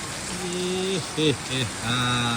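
Heavy rain in Bhutan, heard as a steady broadband hiss throughout, with a voice making drawn-out sung or hummed tones over it.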